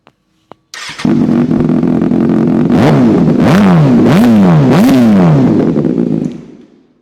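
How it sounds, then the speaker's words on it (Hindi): Kawasaki ZX-6R inline-four sport bike engine revved hard at close range, a few short clicks before it fires, then a steady idle broken by four sharp rising-and-falling throttle blips before the engine winds down. "बाइक बहुत लाउड होने वाली है। इनलाइन 4 है"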